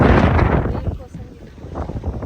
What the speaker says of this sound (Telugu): గాలి ఘోరంగా వస్తుంది